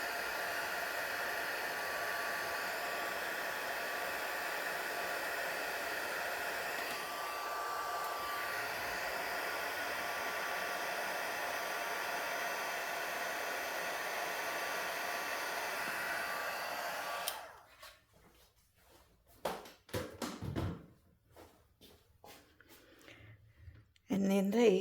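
A heat embossing tool blows hot air over a paper scrapbook craft, a steady close whooshing roar like a hair dryer that runs for about seventeen seconds, then cuts off, leaving quiet handling noises.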